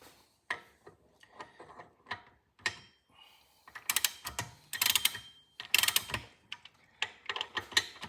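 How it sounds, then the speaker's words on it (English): A torque wrench ratchets while tightening bolts on a 1992 Subaru Sambar engine during a rebuild: quiet, close clicking in irregular bursts, growing denser and sharper in the second half. "those are going to get torqued to 32 foot-pounds"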